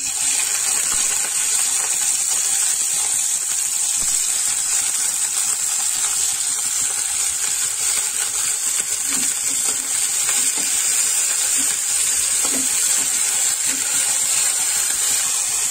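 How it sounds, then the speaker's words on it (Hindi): Onion and chili fry in refined oil in a pan, a continuous hissing sizzle that stays even and close, with a few faint stirring taps and no talk. "हमने इसे थोड़ी देर फ्राई करेंगे। हमें इसे थोड़ी देर अच्छी तरह से पकाना है, इसे ब्राउन होने तक पकाएं।"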